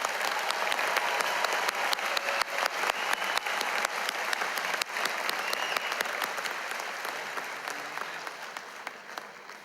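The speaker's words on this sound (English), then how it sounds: "Please join me in a round of applause for all of our master's degree recipients" Audience at a university graduation ceremony applauds master's degree recipients, with broad, steady clapping that is fairly close and full, gradually thinning and softening toward the end.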